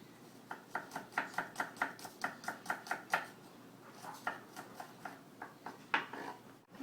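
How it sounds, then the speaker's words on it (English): A knife chops garlic cloves into small, thin pieces on a cutting board, a steady run of about twenty crisp, close taps with a short pause partway through. "now that the garlic is chopped up"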